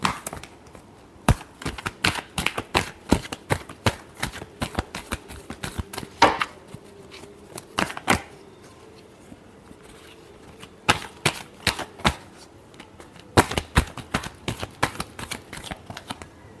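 A deck of tarot cards gets shuffled in two close, dry spells of rapid clicking and flicking, separated by a brief lull, quiet overall with no voices.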